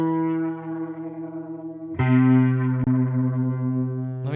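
Electric guitar chord played through a Boss RT-2 Rotary Ensemble pedal with the drive at maximum, a thick distorted swirling tone that rings out, then a second chord is struck harder and sustains loudly.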